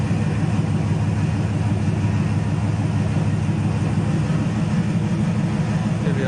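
A 1974 Chevy Nova with a big block 454 V8 idling, its vacuum line disconnected and carburetor port blocked off, a loud, steady, deep engine rumble running smooth and even throughout.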